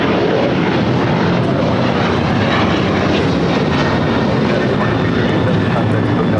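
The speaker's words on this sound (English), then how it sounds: "This takeoff is United Airlines 2237 taking off to Houston Intercontinental on a 737-900ER." A United Airlines Boeing 737-900ER roars through its takeoff at LAX, a loud, sustained, broadband jet rumble that stays powerful and steady throughout.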